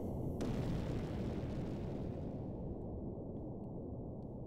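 Air attack explosions in the video game Xenogears, a faint, low rumbling blast that starts with a sharp burst and then rolls on as a steady muffled roar, gradually thinning out.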